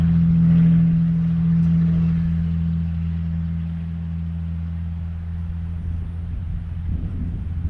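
A loud vehicle passes outdoors with a heavy, steady low rumble and drone that swells near the start and slowly fades, with no talk over it.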